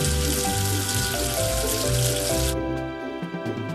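Water runs and splashes, rinsing soap away in a steady broadband wash that cuts off abruptly partway through, leaving a quieter tail with a few faint drips.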